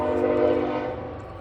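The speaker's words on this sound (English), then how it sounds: "Let's just let this train go by really quick." A train rolls past close by, a loud sustained rumble with strong steady tonal hum that swells early and slowly fades, no talking over it.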